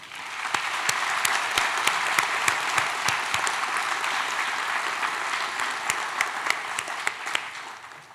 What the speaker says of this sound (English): Let's give them a round of applause for your hard work, which helped make this day possible.